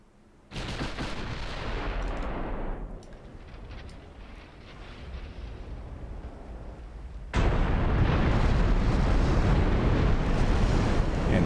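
Naval gunfire in a DIP Brazilian campaign warship game: a loud broadside blast booms in, rumbles and decays, then a second heavy salvo or shell impact roars in and sustains to the end, with no speech.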